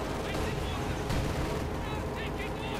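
Company of Heroes 2 battle din has dense gunfire and artillery blasts cutting down conscripts. Sharp cracks and heavy booms keep coming over a constant rumbling wash of explosions.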